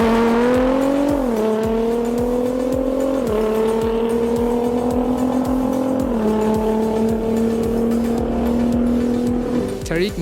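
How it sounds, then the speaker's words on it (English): Two Alpha 6 cars at a private NXgen drag racing event, engines droning loud and steady with rising pitch through several gear shifts, close by and continuous. "This is George's Alpha 6 that's going to race Tariq's Alpha 6."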